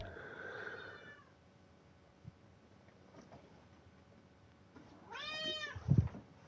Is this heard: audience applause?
no